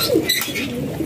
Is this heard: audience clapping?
no